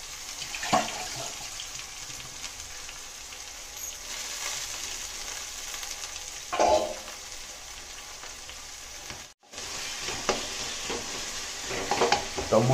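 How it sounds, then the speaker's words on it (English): Potato and carrot fry in a pan for upma, a steady close sizzle with scraping stirs now and then and a sudden brief drop in the hiss, no talking. "Now adding potato and Carrot"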